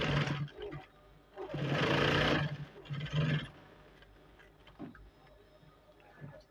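A sewing machine stitches a trouser pocket in short motor bursts, a sustained run in the middle and a few brief pulses, moderately close in a quiet room.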